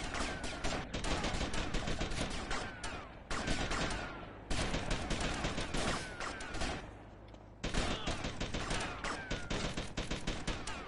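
Rapid bursts of gunfire from GTA Vice City ring out almost continuously, dense volleys of shots broken by a few short pauses, loud and close with no talking over them.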